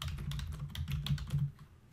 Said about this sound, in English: you can see I'm now typing in create table in lowercase